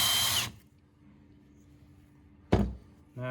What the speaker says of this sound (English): Get your wire brush, whether it's one that goes on a screw gun or just a handheld.